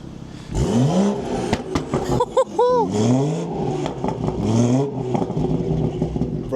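BMW F-series B58 engine fitted with a VRSF catless downpipe, revved repeatedly in sharp rising and falling bursts, loud and close from behind the car, with brief talk in between.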